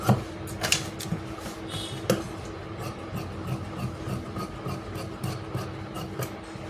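Cloth for double pleated pants is cut with shears, giving soft rhythmic rasping and rubbing strokes close by, with a few sharper snips and taps at the start.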